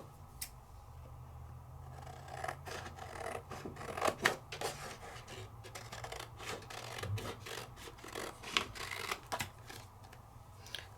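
Scissors trim a paper stencil, giving soft rasping snips and rubbing paper sounds in an irregular run. Several sharper cuts stand out against a faint background.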